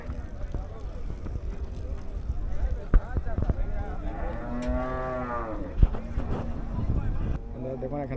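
Cattle low at the Shimulia livestock market in Rupganj, with one long, drawn-out moo rising clearly mid-clip over a steady bed of market crowd noise and nearby voices.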